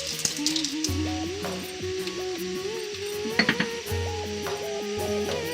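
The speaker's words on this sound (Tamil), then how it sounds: "இதை நல்லா கோல்டன் ப்ரௌன் ஆகிற அளவுக்கு ஃப்ரை பண்ணிக்கலாம்" Onions frying in oil with salt until golden brown for mutton kurma, a steady close sizzle with stirring and occasional utensil clinks, loud over faint background music.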